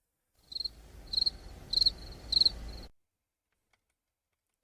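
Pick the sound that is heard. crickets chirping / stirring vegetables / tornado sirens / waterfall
crickets chirping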